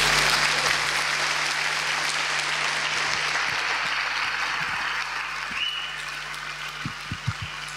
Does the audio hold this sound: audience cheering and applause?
yes